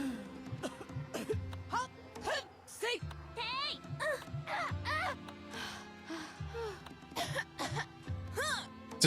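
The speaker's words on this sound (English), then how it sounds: "Just her coughing." Female character in the video game Monster Hunter Frontier coughing, a series of short, breathy coughs and throat sounds repeated several times, close and mixed with talk.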